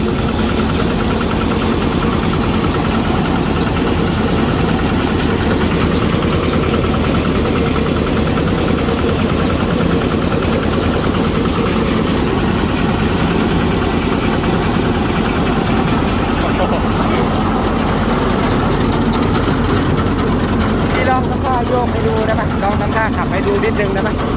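Engine of a Thai rot itaen farm vehicle used for cutting grass for cattle, running steadily with a continuous low rumble and vibration throughout, close by, with people talking over it.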